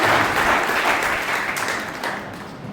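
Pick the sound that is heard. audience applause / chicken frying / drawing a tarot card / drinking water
audience applause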